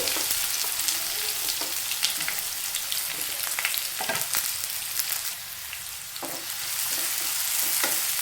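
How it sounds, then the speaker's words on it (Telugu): Onions frying with green chillies and curry leaves in a pan for Bhimavaram-style chicken majjiga pulusu, a steady close sizzle with occasional stirring scrapes throughout, no voices. "నెక్స్ట్ మనం ఉల్లిపాయలు వేసుకున్నాం. ఉల్లిపాయలు కూడా ఫ్రై చేసుకోవాలి."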